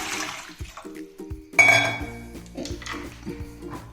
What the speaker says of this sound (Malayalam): ഒരു പാത്രം അടപ്പേ വെച്ചിട്ട് നമുക്ക് അതിനകത്ത് ഒരു 2 കപ്പ് വെള്ളം ഒഴിക്കണം